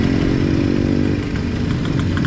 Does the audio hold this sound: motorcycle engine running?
yes